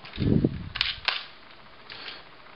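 A few small ratcheting clicks from a plastic Transformers G1.5 Skyquake toy robot's shoulder joint, two crisp ticks after a brief rustle, close and quiet.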